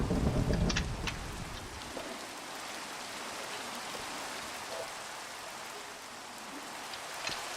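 Steady rain falls during a thunderstorm, a broadband hiss that holds evenly throughout, opening with a brief low rumble of thunder in the first two seconds.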